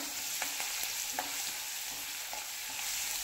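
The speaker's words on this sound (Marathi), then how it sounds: "लसूण थोडासा छान असं भाजून घ्यायचा" Garlic fries in a pan for a mixed moth bean curry, giving a soft, steady sizzle with a few faint stirring clicks and no talk.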